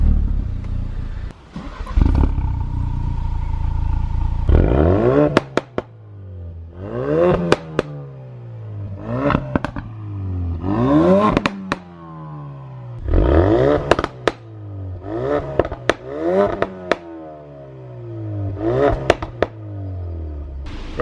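A 2017 Ford Focus RS starts with a cranking whir and settles into a loud idle, then gives a series of sharp revs that rise and fall roughly every two seconds, each ending in crackling pops.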